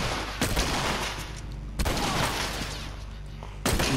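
Gunfire in The Last of Us video game, three sharp loud shots spaced over a few seconds, each cutting through a low rumbling background, no talking.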